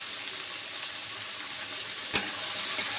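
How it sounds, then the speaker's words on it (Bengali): Bitter gourd and onion frying in a pan with salt over a low gas flame, a soft steady sizzle with one sharp clink of a utensil partway through. "ভালো করে ভেজে নেবো।"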